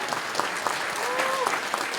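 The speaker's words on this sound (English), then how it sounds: "So another big round of applause for Mellow Brown and Jeff Connor." Applause from an audience at a Forbidden Planet TV event, steady and moderately loud for the full two seconds, with a voice briefly audible over the clapping.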